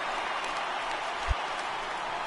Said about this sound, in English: the home crowd is loving it